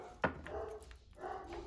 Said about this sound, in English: My dogs are driving me nuts.